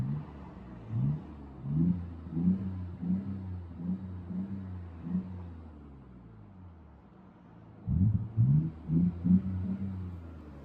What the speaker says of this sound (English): Let's accelerate the car a little bit.